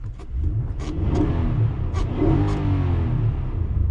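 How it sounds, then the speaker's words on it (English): A deep, throaty V8 engine in a 2024 Infiniti QX80 SUV revs up twice in quick succession, loud and close, with a rumbling idle between the pulls. "Let me give you guys a quick little rev check."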